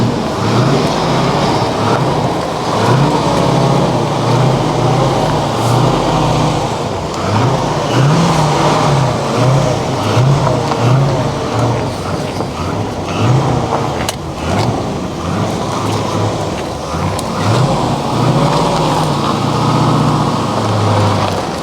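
A Corvette C4 ZR-1 barn find engine running loudly and steadily with repeated revs, a continuous close mechanical drone with rhythmic throttle blips and no voices over it.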